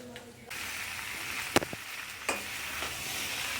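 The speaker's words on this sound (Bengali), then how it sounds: "দেখো চানাটা ভালো করে কষানো হচ্ছে।" Chickpea curry being sautéed in a pan, a steady close sizzle that swells after a quiet start, with a couple of sharp spatula scrapes and knocks, no talking.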